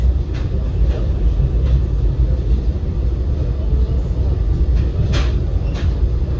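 Cape Flyer train rolling away from a stop, heard from inside as a steady loud low rumble with faint intermittent clicks and rattles.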